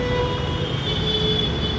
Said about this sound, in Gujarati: મેટ્રો સ્ટેશન પર આવી ગયા આપણે.